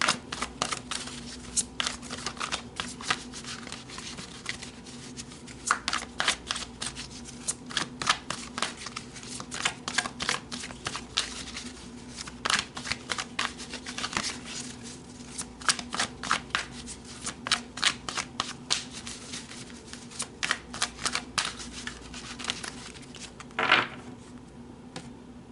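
Tarot cards being shuffled by hand, a long run of quick crisp riffling flutters in irregular bursts, close and clear, no talk over them.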